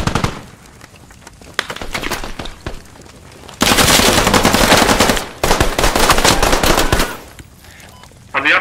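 Gunfire in the squad shooter video game Squad: bursts of close machine-gun fire, first in short separated volleys, then long loud sustained rattling with brief gaps and a final burst at the end.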